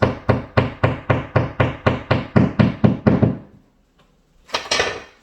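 Hammer taps on a plastic wall plug come about a dozen times in an even, quick rhythm, each a close, solid knock. They stop and a short silence follows, then a brief rustle or scrape closes the clip.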